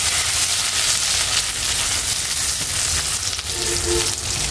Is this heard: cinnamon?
yes